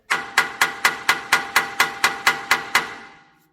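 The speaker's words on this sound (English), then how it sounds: "as I was hitting, I'm deforming the metal." A hammer strikes metal coated with Eastwood rust encapsulator, about a dozen sharp, evenly spaced ringing blows in quick succession, close and loud, with the last ring fading out.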